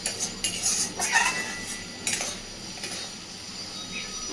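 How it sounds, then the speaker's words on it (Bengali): Pointed gourd curry with kasuri methi being stirred in a pan: clinking spoon scrapes and knocks against the metal over a soft background sizzle, close and unvoiced. "কাসুরি মেথিটাকে দিয়ে আবারও খুব ভালোভাবে নাড়াচাড়া করে সব কিছু মিশিয়ে দেব"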